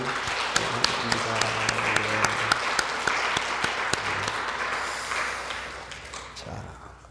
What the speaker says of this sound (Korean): 우리 한 박수로 한번 환영해요